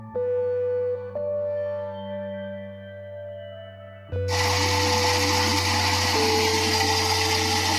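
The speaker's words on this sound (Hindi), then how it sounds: "इन तमाम चीजों को हम मिक्सी जार में डाल के ब्लेंड कर लेंगे" A mixer grinder whirs steadily, then revs up into a loud, harsh roar as it blends whole spices for kebab masala, the motor droning continuously up close.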